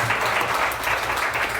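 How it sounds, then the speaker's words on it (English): An audience at a panel discussion on social commerce applauds steadily, a dense wash of clapping at even loudness from start to end with no voices over it. "Can we give a round of applause for that?"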